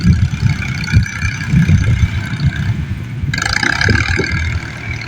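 A green farm tractor's engine runs steadily close by, a low rumbling drone with a brief rise in intensity partway through.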